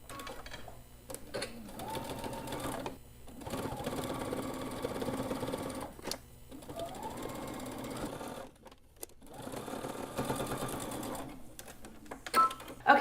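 A sewing machine stitches a folded fabric edge in several runs of steady rapid whirring, broken by short pauses and a few clicks, close and clear with no speech.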